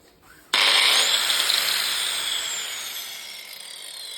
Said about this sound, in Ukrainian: Тоді ми зараз підключимо, попробуємо болгарку.